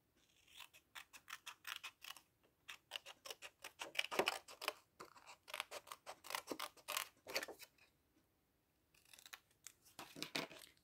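Scissors snip through paper for a handmade flower-pot card, a quick run of crisp, rhythmic cuts close by, pausing briefly before a final burst of snips, with no talking.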